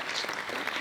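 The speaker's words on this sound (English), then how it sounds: "please a round of applause for our great panelists" Steady audience applause for panelists taking the stage at a panel discussion, dense and continuous with no talk over it.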